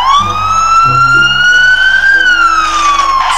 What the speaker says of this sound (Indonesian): Sirine ambulans.